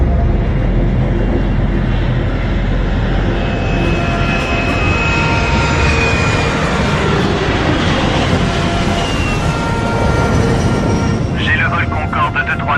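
A Concorde jet in flight roars loudly and continuously, with a drawn-out whine sliding across the engine rumble and a rushing swell near the end, in a dramatic movie scene.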